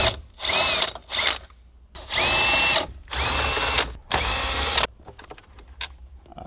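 A power tool unscrewing bolts on a 2024 Toyota Land Cruiser whirs in four short bursts separated by brief pauses, each burst spinning up and down sharply, followed by faint clicks of handling.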